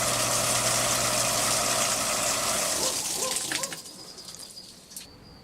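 Aqua Therma Power Pack water pump runs with a steady, fairly loud motor hum, then shuts off partway through, leaving a quieter background with faint chirps.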